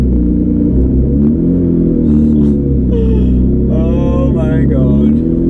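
A Porsche sports car of about 800 hp rumbles steadily at low revs from inside the cabin, a deep continuous engine drone under a voice speaking.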